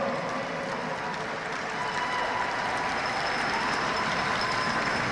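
Crowd applause for a high school homecoming court in a gym at a girls basketball game, a steady dense wash of clapping and crowd noise filling the hall throughout.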